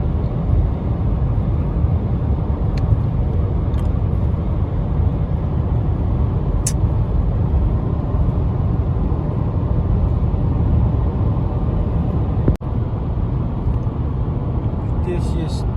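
A 2021 Subaru Forester 1.8 Turbo cruises at 130 km/h below 2000 rpm, giving a steady, loud cabin rumble of engine and road noise that stays even from start to finish.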